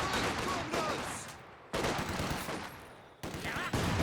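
Mortar barrage and gunfire on a World War II battlefield in Company of Heroes 2, with dense booming blasts and crackling fire in three heavy waves that keep breaking off and restarting.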